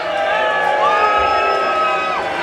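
Wrestling fans at a UWA ThrowDown show cheer, whoop and shout continuously as one loud, steady crowd roar, with no single voice standing out.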